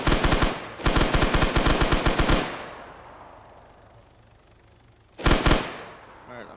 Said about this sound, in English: Decided that somebody's shooting off some guns over here.